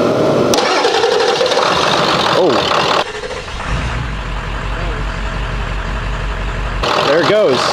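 A 7.3L Powerstroke diesel truck engine with 500,000 miles cranks, catches and fires up, loud and close, settling into a rough, heavy idle that swells again near the end; voices are heard over the engine.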